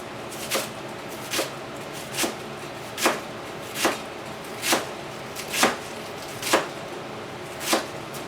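A knife slices cabbage thinly on a cutting board for curtido, the pickled cabbage served with pupusas, giving about ten crisp, evenly spaced chops.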